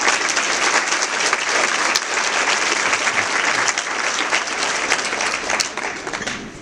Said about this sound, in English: Please join me in a round of applause to thank each and every one.